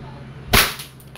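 A WE airsoft Glock 17 Gen 5 gas pistol fires a single sharp crack, close and loud, against a quiet background.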